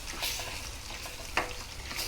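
Soft, steady sizzling and bubbling from chicken in a pan, with a brief scrape of stirring partway through.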